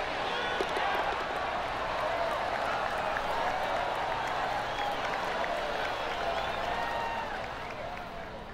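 Sustained crowd applause and cheering from a golf tournament crowd in PGA 2K23, steady and dense throughout, fading slightly near the end, with faint voices mixed in.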